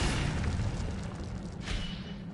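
Incendio fire spell cast in Hogwarts Legacy, a steady roaring whoosh of flame with a boom-like low rumble that holds loud for a couple of seconds, then swells briefly before easing.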